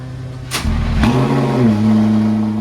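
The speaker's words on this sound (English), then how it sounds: "here is a cold start of a McLaren P1" A McLaren P1 supercar fires up from cold: a sharp starter crank and ignition burst, then a loud, close engine settling into a steady high idle with a slight rise in pitch.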